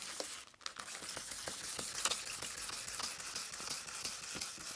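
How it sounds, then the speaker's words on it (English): A plastic car headlight lens is wet sanded by hand with 1000 grit sandpaper, producing a soft, close scratchy rasp with repeated brief strokes and faint clicks throughout, no speech. "We're gonna go in here, we're just gonna sand."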